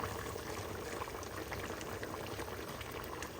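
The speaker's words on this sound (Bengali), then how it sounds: "আমার ভিতরের যে চুলাটা আছে এই চুলাটাতে মাংস উঠায় দিলাম এখন এখানে রান্না করব" Meat cooks in a pot on the stove with a continuous bubbling, boiling simmer. It is steady and close throughout, with no talk.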